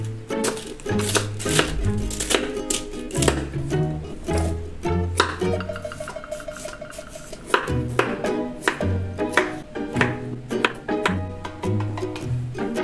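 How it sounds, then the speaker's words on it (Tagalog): Cabbage and carrots being chopped with a knife on a board, a long run of fast, close, sharp thuds in uneven bursts with a brief pause midway, with faint wet squishing between strokes. "Pagkaugas ng toge, hiwain na natin yung repolyo tsaka yung carrots."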